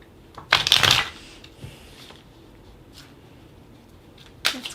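A deck of tarot cards is shuffled in one quick riffling burst near the start, close and crisp, followed by near silence and a brief final flick of cards.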